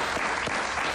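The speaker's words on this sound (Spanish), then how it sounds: "Un aplauso para ella." A brief burst of studio audience applause on a Spanish-language television interview show, a dense and even wash of clapping heard alone for about a second.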